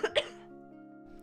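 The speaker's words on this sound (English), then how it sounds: "See, you guys are making me cough." Two quick, close coughs in fast succession from a person at a desk, followed by a faint steady hum and near silence.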